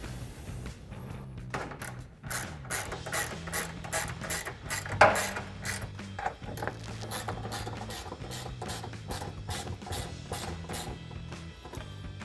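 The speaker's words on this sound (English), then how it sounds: "And now we can take a 6mm Allen bit to tighten down our 2 bolts." Ratchet with a 6mm Allen bit tightening two bolts while installing a Roll-N-Lock M-Series retractable bed cover on a Jeep Gladiator JT, a steady run of close, even clicks sounding alone for the whole stretch.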